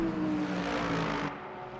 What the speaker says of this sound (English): I love the noise of the Lexus.